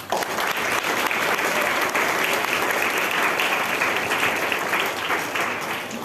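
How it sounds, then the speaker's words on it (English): A large audience gives a sustained round of applause at an International Moon Day celebration, a dense, even wash of clapping that holds steady for several seconds before easing slightly at the end. "So can we have a huge round of applause?"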